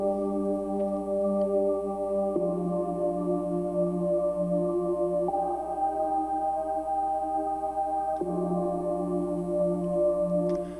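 Atmospheric synth pad from the Ethereal Earth Pack sustains smooth chords that shift every few seconds, steady and airy with bright upper shimmer, played alone.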